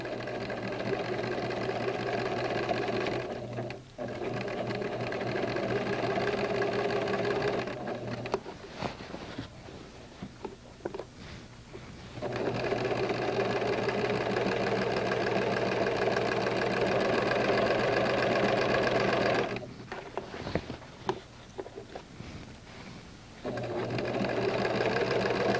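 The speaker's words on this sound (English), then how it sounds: "Continue to stitch all around, watching that guide." A sewing machine stitches around a fabric casing in long, loud, steady whirring runs that stop and start briefly between passes, with no talking.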